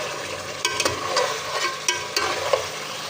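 Chicken masala frying in a cooking pot, a steady crackling sizzle with small spattering pops and stirring scrapes throughout, fairly close and without any speech.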